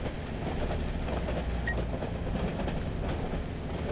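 A moving train rumbling along in the horror game Cry of Fear, a steady, heavy low roar with faint rhythmic rattling, continuous and fairly loud without speech.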